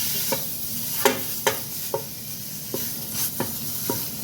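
Animal fat, the white suet, melts alone in a pan for a meat soup, hissing with a soft steady sizzle broken by about eight sharp scraping knocks of a stirring utensil.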